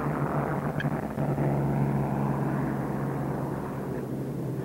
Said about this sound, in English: Dauntless dive bombers.